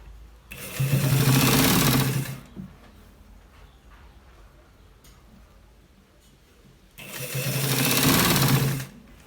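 A sewing machine stitches the lower part of a collar shirt in two loud, sustained runs of about two seconds each, separated by a quieter stretch of faint handling noise.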